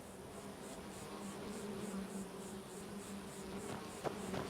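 Giant honeybees in Skyrim: Dawnguard hum steadily near a bear cave, a continuous insect drone with a brief sharp click toward the end.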